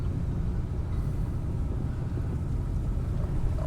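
Hurricane Matthew's winds roaring through an intersection on South Ocean Boulevard in Myrtle Beach, a loud, steady low rumble of gusting wind buffeting the microphone from a moving vehicle, with no talk.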